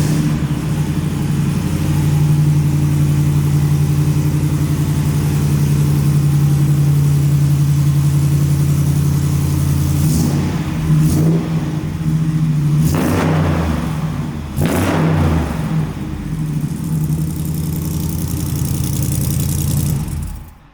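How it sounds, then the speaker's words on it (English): A 1967 Kaiser Jeep M715 with a 6.4 HEMI and custom exhaust through MagnaFlow mufflers rumbles at a steady idle, then blips its throttle in several quick revs before settling back, loud and close. "Made it up with a set of MagnaFlow mufflers. This thing is awesome and it sounds great."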